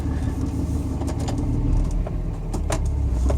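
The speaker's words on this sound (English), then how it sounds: "Let's just do one little pull up this hill real quick." A Cummins diesel truck (2004.5–2007, built transmission) pulls hard up a hill, its engine a steady, loud, close drone with rumbling low end throughout.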